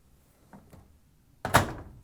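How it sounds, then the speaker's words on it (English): A washing machine door on an LG/Kenmore front-loader swings shut with one firm, close thunk, preceded by a couple of faint soft knocks in an otherwise quiet room. "Close the door."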